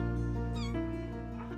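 A stressed mother cat growls and wails close by, a rich, drawn-out harmonic cry with rising and falling pitch that fills the whole stretch without a break.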